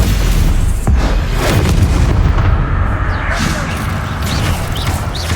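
Bombarda spell blasts in Hogwarts Legacy, heavy booming explosions and crashing impacts in a tomb, loud and layered with rumbling debris, amid game sound and some voice.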